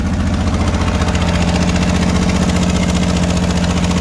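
A 1965 Ford Mustang engine idles steadily at a fairly high, constant speed while warming up, a continuous close-up hum with a faint rattling vibration and no voices.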